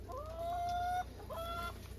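Chickens on a European permaculture farm give two drawn-out, honking clucks in quick succession, fairly close, over a low steady background hum.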